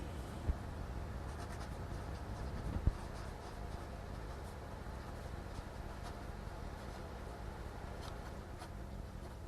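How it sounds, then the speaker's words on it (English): A flex nib fountain pen scratches across thin, smooth Tomoe River paper, laying down shading ink in a faint, continuous close-up scratch with a couple of sharper taps. "this is a flex nib, so I'll be able to put down quite a bit of ink"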